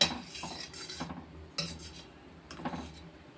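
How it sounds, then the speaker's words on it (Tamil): Drumstick leaf soup stirred in a pot after boiling, heard as a few distinct scraping and rubbing strokes of a spoon against the pot, close and fairly quiet with short pauses between. "இப்போ நல்லா கிண்டி விட்டு நம்ம அடுப்பை ஆஃப் பண்ணிட வேண்டியதான்"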